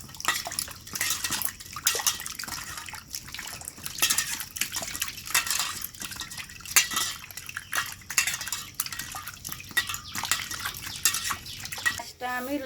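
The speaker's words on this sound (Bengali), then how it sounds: "আমি এখন মাছটা ধুয়ে নেই।" Pabda fish being rinsed in a dish, with clinking of a metal pot and utensils against water and splashing, close and steady.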